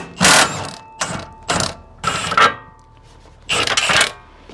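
Ratcheting wrench bursts under an Infiniti Q50 Red Sport as a bolt is worked loose, several loud clicking runs separated by short pauses, close to the microphone.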